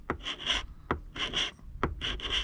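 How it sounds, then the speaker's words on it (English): A fine scraper rasps old antifouling paint off a 28-foot boat hull in three rhythmic bursts, each a double stroke, loud and close with no talking. "Now I got this one, a fine scraper, and it's supposed to be better."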